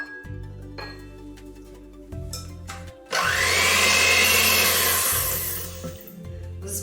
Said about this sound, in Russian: Взбивала где-то около 1 минуты.